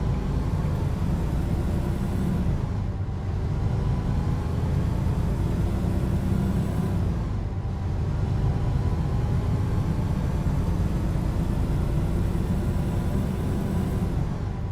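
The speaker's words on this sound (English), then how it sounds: "You can tell it's a shorter ratio by how much it's shifting" A truck with a lower-horsepower FE engine and short gearing in American Truck Simulator drones loudly and steadily, its revs dipping and recovering at each of several gear changes, with no talking.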